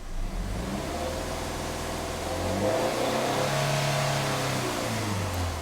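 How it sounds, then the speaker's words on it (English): A Subaru engine with timing issues after a short block replacement revs in the workshop, a steady mid-pitched drone that climbs and eases back over a few seconds, close and moderately loud. "let's give this a rev and see what happens, see if we can get these cams to move"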